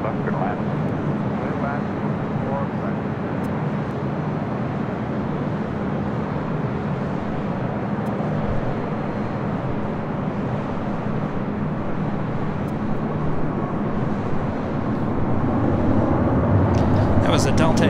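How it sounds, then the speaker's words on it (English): A Delta A321 airliner touches down on runway 24 left at LAX, arriving from Atlanta, as a steady broadband jet roar that swells toward the end. Radio chatter and talk run underneath the whole time. "That was a Delta A321. Touching down on 24 left, coming in from Atlanta, flight 753."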